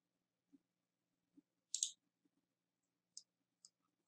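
Computer mouse clicks while editing in Lightroom, a handful of faint, quiet, sharp ticks spread irregularly across a near-silent background.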